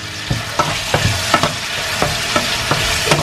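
Pork belly and vegetables stir-fry in Japanese-style pizza sauce, a steady close sizzle broken by rhythmic scrapes and taps of a spatula against the pan, with no talking.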